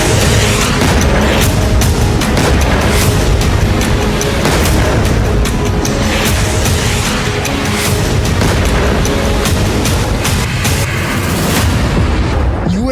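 Long-range missile strikes and explosions in the Iran–Israel war: a dense, continuous barrage of loud booms and blasts, repeated thuds overlapping one another for the whole stretch, with no talk.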